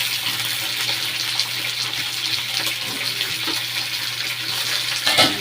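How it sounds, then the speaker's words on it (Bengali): Pointed gourd frying in a pan gives a steady, dense crackling sizzle, close and continuous, with a slightly louder pop near the end and no voices. "দেখেছেন ফাটছে, দেখেছেন? পটলও ফাটে।"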